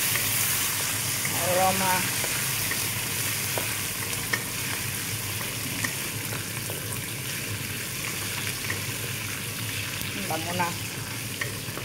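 Curry leaves and pandan leaves fry in hot oil for a Sri Lankan spicy chicken curry, a steady crackling sizzle with occasional stirring scrapes while a voice speaks briefly over it.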